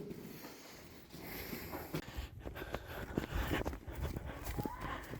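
Cattle returning from pasture, with a few moos and shuffling, trudging hooves close by, alongside rustling outdoor noise and people talking.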